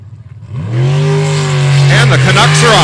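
A jet sprint racing boat in a qualifying round roars to full throttle, its loud steady engine note rising and holding close, with a commentator talking over it.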